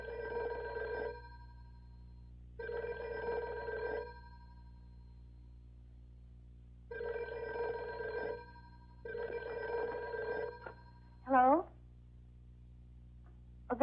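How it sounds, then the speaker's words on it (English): An old landline telephone bell rings in four evenly spaced double bursts, clear and close, in a quiet room, followed by a brief sweeping tone. "Wasn't that your phone?"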